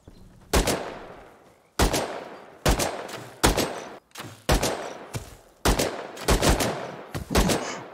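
Repeated bursts of gunfire from a gun in the video game Rust, loud and close, arriving in about eight sharp volleys with brief gaps, each burst trailing off quickly.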